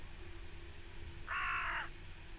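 A person mimics a crow's caw with their mouth during a tabletop game session, one short, raspy call standing out over a low room hum.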